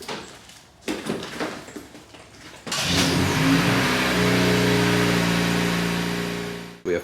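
A car engine starts up and revs, then holds a loud, steady accelerating drone with rising harmonic tones for several seconds before cutting off, preceded by a few thuds like a door closing.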